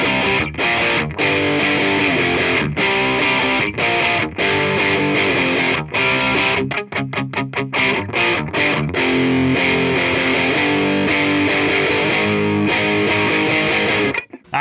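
An electric guitar played through a Bugera 1990 amp, set at 10 on its slightly dirty clean channel, plays a loud, close, distorted bridge riff with chugging rhythmic chords, short stops and a rapid muted stutter midway, alone with no talk.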